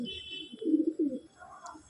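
Small Madrasi (Andhra) pigeons in a loft at Sodhpur give a pair of soft, low guttural coos in quick succession, close and quiet, followed by fainter higher sounds.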